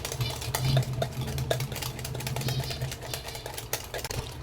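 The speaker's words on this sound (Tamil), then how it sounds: "இந்த மாதிரி ஒரு 2 மினிட்ஸ் நல்லா பீட் பண்ணிக்கோங்க" Chocolate cake batter beaten by hand in a bowl, a steady stream of quick wet whisking strokes with faint clinks against the side, running close and continuous with no talking.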